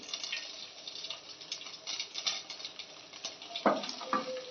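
Fennel seeds sizzle and crackle steadily in hot oil, with occasional pops and a brief scrape of a utensil, close by.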